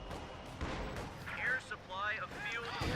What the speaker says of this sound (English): So artillery to take out the house.